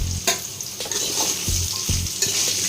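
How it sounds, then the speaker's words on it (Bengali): Potatoes frying in a pan give a steady sizzle, with a few sharp clinks and scrapes of a utensil stirring them; no voices. "আলু ভেজে নেব।"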